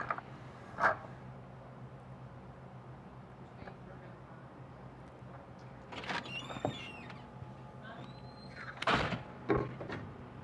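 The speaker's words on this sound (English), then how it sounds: "That's why that door, we can hear that because Dustin's going out that door" A door at a pool hall opens and closes as a player walks out during a billiards match, heard as a few distinct clunks and creaks over low room noise and faint voices.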